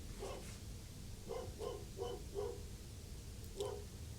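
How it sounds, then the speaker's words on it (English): A dog barks several times in the distance, a spaced cluster of yaps followed by one more after a pause, over quiet background hiss. "That's our neighbor's dog."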